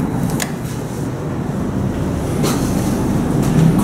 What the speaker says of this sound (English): Oh, I hear MetroLink.